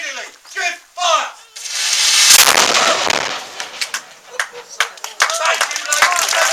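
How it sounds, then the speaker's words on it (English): A ceremonial cannon fires at Elizabeth Castle with one loud, sharp blast followed by a long, hissing decay, set among people talking before and after. "It's dry enough to fire the cannon."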